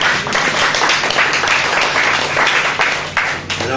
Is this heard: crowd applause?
yes